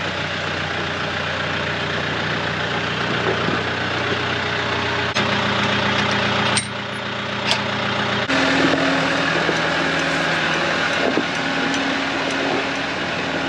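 A large tractor engine running for hay raking, a loud, steady low drone held throughout, with a brief dip in the middle before the rumble carries on unchanged.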